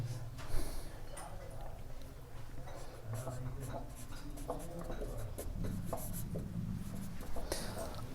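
Pen writing on paper, close scratchy strokes in short irregular bursts that carry on steadily, with a low hum and room noise underneath and no clear talking over it.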